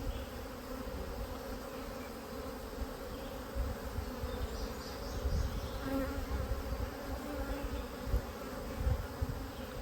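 Honeybees hum steadily inside a rescued hive box infested with hive beetles, a close, continuous droning buzz that rises and falls slightly in intensity.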